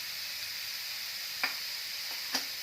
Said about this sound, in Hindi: अब इसे 4-5 मिनट अच्छे से भून लेंगे ताकि ब्रोकली का कच्चापन चला जाए।